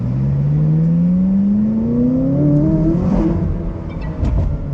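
A McLaren supercar accelerates hard, its engine note climbing steadily in pitch over several seconds as it gains speed, loud and close from inside the cabin with no talking.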